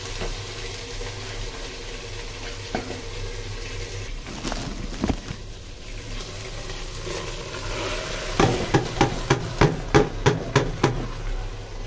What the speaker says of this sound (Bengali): পোলাও চালটা দিয়ে দিই।